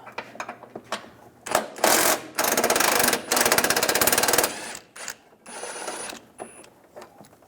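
A 15mm socket on a ratchet takes a bumper bolt off a 2007-2013 Chevrolet Silverado. Close, rapid clicking comes in several bursts, some long and steady and some short, with small metallic taps between them and no talking.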